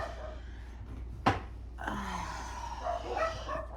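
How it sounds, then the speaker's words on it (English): Dogs bark near a small home candle-making workspace: one sharp yelp or bark stands out, followed by a longer stretch of mixed barking and yipping over a low steady hum. "I'm so sorry about the dogs barking,"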